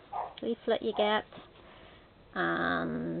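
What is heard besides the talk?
dog barking at someone coming to the door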